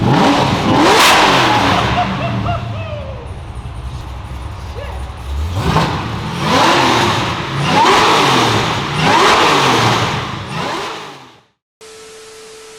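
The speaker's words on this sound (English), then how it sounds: "I can't wait to hear what these stainless bro mufflers rocking and rolling sound like" Supercharged LS-swapped 1973 Chevrolet Caprice convertible with stainless mufflers, revving hard several times in loud, close surges that rise and fall before cutting off abruptly.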